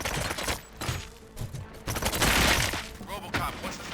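Gunfire in the Robocop Rogue City video game, with dense, loud bursts of shots and crashing impacts filling the moment, alongside some faint voice in the mix.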